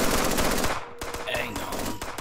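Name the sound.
suppressing gunfire in a video game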